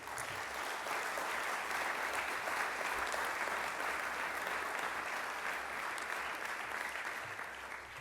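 A school audience gives sustained applause after a student ethics speech, a dense, steady wash of many hands clapping for the full stretch without a break.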